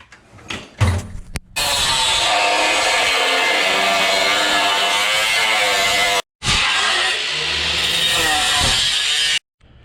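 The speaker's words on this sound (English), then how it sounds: "I'm gonna go ahead and get my angle grinder" An angle grinder cuts a slot in the brake dust shield of a Nissan 350Z, a loud continuous harsh grinding that runs for several seconds, breaks off briefly, then resumes before stopping.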